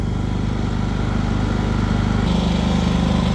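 A brand-new Champion 8500 watt inverter generator runs at a loud, steady buzzing idle, then its engine note abruptly drops to a lower, even drone as eco mode kicks in.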